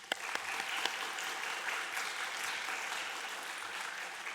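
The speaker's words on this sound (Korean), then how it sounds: "이 하나님께 우리가 감사의 박수 한번 드리면 좋겠습니다" A church congregation at a Sunday worship service claps together in thanks, a steady, moderately distant round of applause with a few sharper claps near the start.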